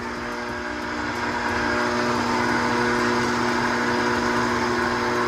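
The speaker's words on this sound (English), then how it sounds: "Just gonna kick that KitchenAid on, flatten it up a little bit, and it's just gonna pull right through." A KitchenAid stand mixer runs a pasta roller attachment, flattening fresh homemade pasta dough; a steady, continuous motor hum and whir sits close and fairly loud, holding an even drone throughout with no talking.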